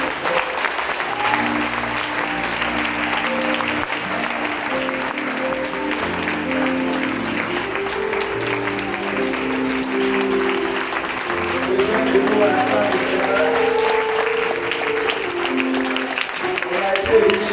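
A church congregation applauds the Lord in sustained, even clapping that runs throughout, with music and voices continuing beneath the steady wash of hands.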